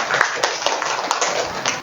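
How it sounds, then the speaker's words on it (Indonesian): Children in a classroom clap their hands together in a burst of applause, a dense patter of claps with a few sharper louder hits, close and lively. "Tepuk tangan buat Zul."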